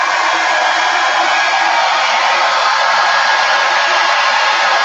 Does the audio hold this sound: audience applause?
no